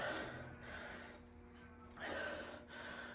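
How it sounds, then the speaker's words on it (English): A person draws a deep breath in through the nose during a home lockdown workout, with two audible airy inhalations under steady background noise. "in through the nose. Nice deep breath."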